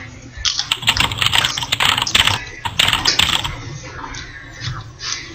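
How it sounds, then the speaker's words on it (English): Fast, loud typing on a computer keyboard in a Garry's Mod Murder game session, dense clattering keystrokes in bursts that taper off into scattered taps, with no talking over them. "Oh, who's typing like that?"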